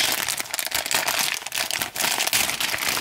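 Plastic wrapping of a surprise toy package crinkles continuously and loudly, close up, with dense crackling rustles for about three seconds and no talking.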